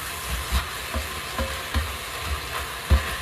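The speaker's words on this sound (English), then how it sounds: "Make sure you keep on scraping the bottom so it doesn't burn" A spoon scrapes the bottom of a pot of bacon, beef and pork chilli, soft rhythmic scrapes and knocks repeating about every half second over a low simmering sizzle.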